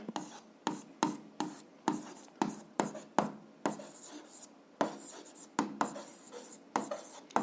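A pen scratches on paper as an answer is written out, making close, quiet strokes in short, irregular bursts with brief pauses between them.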